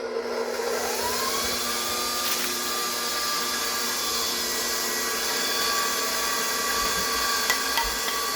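An electric mixer whips a chocolate cream pie filling with a steady, loud motor whine that holds constant and close throughout, with no speech.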